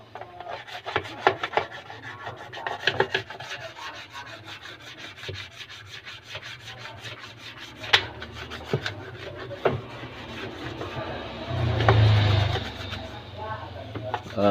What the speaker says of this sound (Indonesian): jadi saya menggunakan sikat gigi atau apalah, yang penting bisa masuk ke selah-selah nih.